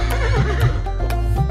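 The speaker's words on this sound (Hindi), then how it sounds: "हिन हिन करता घोड़ा भागे" A horse whinnies in a quick, wavering neigh, close and clear, over light rhythmic backing sounds.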